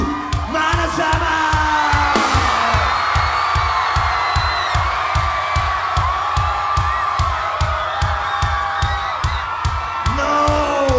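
A large crowd at a rock concert during a 2007 European tour screams, whoops and shouts loudly and continuously, with a heavy rhythmic beat pounding underneath throughout.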